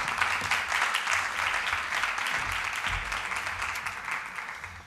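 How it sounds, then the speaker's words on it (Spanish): An auditorium audience at a carnival inaugural lecture in the Museo Picasso Málaga gives a steady round of applause that fades slightly toward the end, with no speech over it. "vamos a dar un fuerte aplauso"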